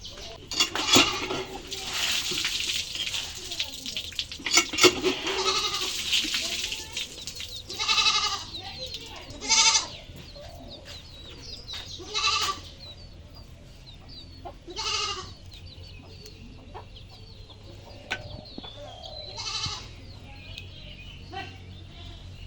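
Goats on a rural homestead bleat in short, scattered calls while waiting to eat papaya peels, with occasional dish and cutlery clatter nearby and a steady low background.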